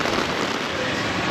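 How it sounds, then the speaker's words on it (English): Rain pours in the old French colonial quarter of Phnom Penh, Cambodia, as a dense, even, close hiss that holds steady without a break. "the rain's picking up quite a bit now."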